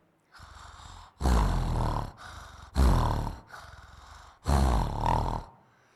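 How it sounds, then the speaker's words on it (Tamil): A tiger roars at a school day event: three loud, rough bursts, each about a second long, with softer growling rumbles in between, close and clear with no talking. "அடுத்ததாவது நம்மளது தேசிய விலங்கான புலியின் உரும்பலை கேளுங்கள்."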